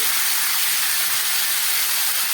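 Vegetables for a chorchori frying hard in a pan with salt and turmeric paste make a loud, steady, close hiss of spitting oil that never lets up.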